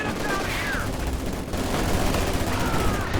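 Dense infantry gunfire from conscripts battling grenadiers in Company of Heroes 2: rapid rifle and machine-gun bursts crackling continuously and loudly with no pause, a fierce close-range firefight.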